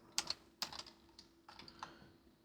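HTML code being typed on a computer keyboard: a handful of quiet, close key clicks in small irregular bursts, with no voices.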